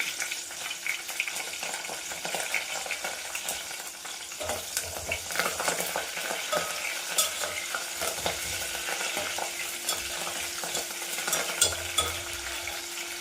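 Curry leaves and green chillies fry in hot oil in a pan for a Telangana-style goat intestine sambar, giving a loud, continuous close-up sizzle with occasional stirring scrapes and no talking.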